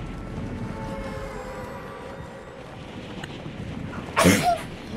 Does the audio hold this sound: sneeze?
yes